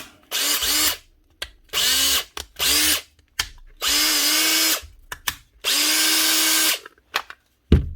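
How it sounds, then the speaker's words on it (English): A repaired power drill with no chuck fitted whirs in several bursts, starting and stopping repeatedly, loud and close, with the motor pitch rising as each run spins up. "That's the drill back together."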